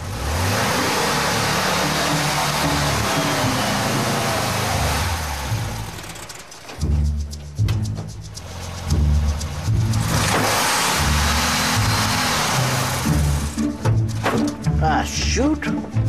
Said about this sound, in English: Time and again, Shelby gives the car too much gas